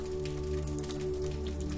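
Rain taps on an umbrella during a walk along a cobblestone village path, a soft, steady patter of many small drops close overhead, quiet and continuous with no voices.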